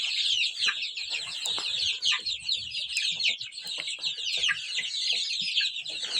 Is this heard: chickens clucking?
yes